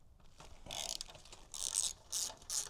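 A ratchet loosening a 12 mm exhaust bracket bolt on a 2024 Yamaha MT-09 motorcycle, heard as close, crisp clicking bursts in several short pulls.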